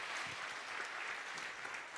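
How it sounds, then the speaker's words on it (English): A church congregation claps together in steady, dense applause that holds at an even level for the whole stretch, with no voices rising above it. "Let's appreciate him once again with a hand clap."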